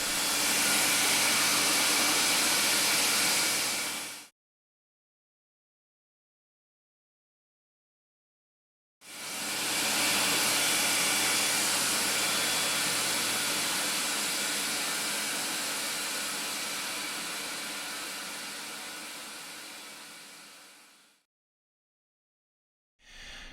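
A loud, steady broadband roar of a workshop dust extraction vacuum runs for several seconds, cuts out, then starts again and slowly fades before stopping.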